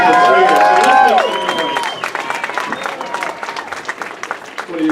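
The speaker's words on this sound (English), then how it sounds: "we got to give a round of applause to Steel City Con" Applause and cheering from a crowd at Steel City Con 2015, during a Batman reunion Q&A with the show's two stars. A voice speaks first, then a loud, dense wash of clapping fills the room.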